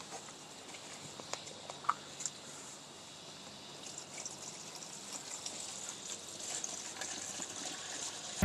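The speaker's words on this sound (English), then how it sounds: "pouring our cleaner in." Pine-Sol cleaner is poured over engine pistons, giving a soft, continuous liquid pour and gush with occasional faint clinks. The sound stays quiet and close, with no talk.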